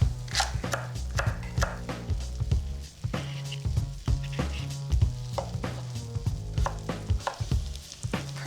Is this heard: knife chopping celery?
yes